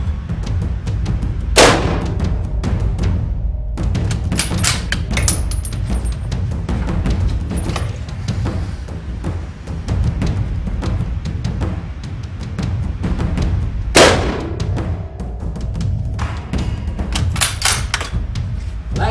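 Argentine Mauser 1909 rifle fired on an outdoor range at 15 yards: two sharp, loud cracks several seconds apart stand out over a constant low rumble of background noise, with fainter thuds and clatter in between.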